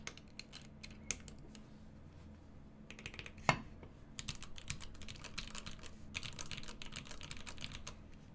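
Rapid clacking keystrokes from a custom-built mechanical keyboard, typed steadily in bursts with one sharper louder key strike midway, heard alone at close range over a low background hum.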